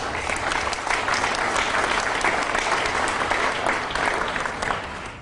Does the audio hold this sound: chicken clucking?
no